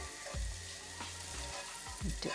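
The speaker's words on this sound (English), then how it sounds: "The pan is now hot, and I'm going to spread some butter" Butter sizzles on a hot pan with a steady, close, soft frying hiss, broken by a few low thumps and scrapes as it is spread.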